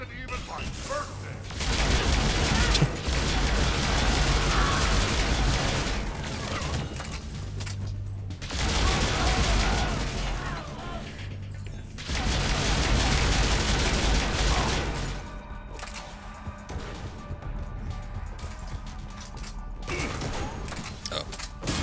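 Firefight on the Normandy CIC in Mass Effect 3, bursts of rapid gunfire and mechanical clatter arriving in dense loud waves separated by brief lulls, trailing off into quieter rattles near the end.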